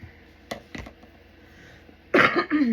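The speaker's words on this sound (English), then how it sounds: "Excuse me for the loud coughing." A few short coughs close to the microphone, then a louder, harsher burst of coughing near the end, with quiet pauses in between.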